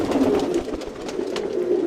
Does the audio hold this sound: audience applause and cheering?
no